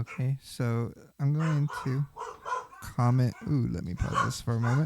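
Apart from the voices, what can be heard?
dog barking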